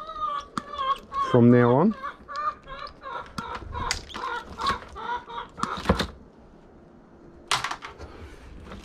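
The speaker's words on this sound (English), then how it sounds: "the chicken's just going on because of the cats in the area" Chickens cluck and squawk loudly nearby, sounding warnings over cats prowling the area, in a run of sharp repeated calls including one long drawn-out cry, with someone speaking briefly between them.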